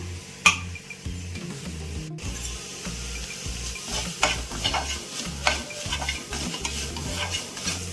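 Okra stir-frying in a pan, with a steady sizzle and the scrape and clatter of a spatula stirring throughout.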